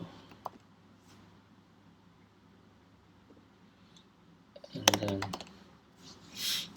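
Computer keyboard typing a file name, a brief close burst of rapid key clicks after a quiet stretch, with a little speech around it.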